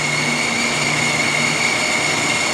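An industrial vertical-blade traveling-table bandsaw with 14-inch wheels, its blade running at about 3,000 feet per minute, gives off a steady, loud, close mechanical whine with a sustained high tone that holds constant the whole time, and no one speaks.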